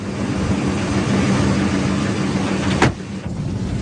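A car driven across the desert, with an even engine and road rumble running steadily, then a sharp knock or jolt near the end before the drone carries on.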